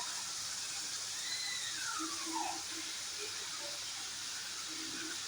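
Onions sautéing in a pan with green chillies and curry leaves for Chennai-style vada curry, a steady soft hiss and sizzle throughout, close and even, with faint voice-like tones drifting in the background.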